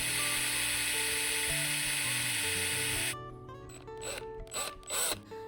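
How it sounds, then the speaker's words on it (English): A power drill boring through the handlebars of a 2015 KTM 1290R motorcycle, a steady high whine for about three seconds that stops abruptly, followed by a few scattered clicks and rattles. "Not every day you get to drill your handlebars out."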